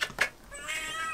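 A house cat meows close by in a couple of short, bright calls, followed by a longer, drawn-out wavering meow, fairly quiet in an indoor room.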